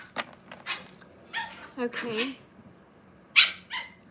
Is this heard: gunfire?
no